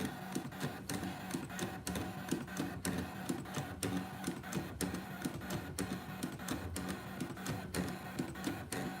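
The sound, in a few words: ScanNCut cutting machine cutting a 3D frame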